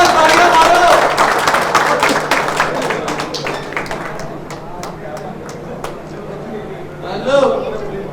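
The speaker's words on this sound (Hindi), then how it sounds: "जोरदार तालियां तालियां मारो" Audience applause at a city champion trophy ceremony in Jammu, a dense burst of clapping that is loud at first and gradually thins out, with a brief swell near the end and voices mixed in.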